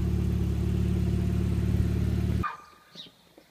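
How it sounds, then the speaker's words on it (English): A warmed-up Mazda MX-5 Eunos Roadster, a Japanese import with new injectors fitted, idles with a steady, even exhaust burble that cuts off abruptly partway through, leaving only faint background noise and a small distant sound. "Another one, exhaust note when warmed up."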